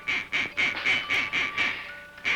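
Toy duck quacking in a steady run of about nine sharp, bright quacks at an even rhythm, loud and close, with no talking.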